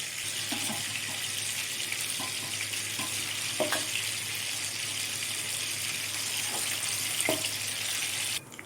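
Prawns for prawn 65 deep-frying in hot oil, giving a steady, close, broadband sizzle with a few faint clinks and taps scattered through, and no talk.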